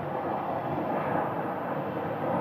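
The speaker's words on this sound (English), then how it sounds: "This is a 737-700." Boeing 737-700 airliner at Phoenix Sky Harbor Airport, a steady, loud broadband engine roar that holds evenly throughout without a break, heard from close by with no talking over it.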